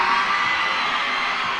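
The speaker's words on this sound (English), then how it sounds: "Crowd is getting very loud here" Loud, dense baseball crowd cheering and whooping at a minor league game between the Binghamton Rumble Ponies and Reading Fightin Phils, a sustained roar that stays steady and close for the whole stretch.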